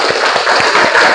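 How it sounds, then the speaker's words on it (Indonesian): A class of students clapping hands in a classroom: loud, close claps in a quick, even rhythm of about four per second, with no talk over them. "tepuk tangan dulu deh"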